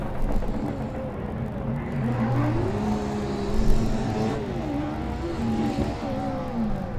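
A Formula Student race car runs an autocross track, its engine note climbing and falling through gears at moderate distance, steady and continuous without voices.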